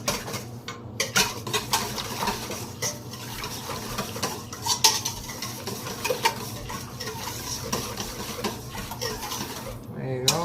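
Yeast mixture and olive oil are stirred together in a bowl, with irregular scraping and sloshing strokes repeating close by, and occasional speech-like sounds faintly underneath.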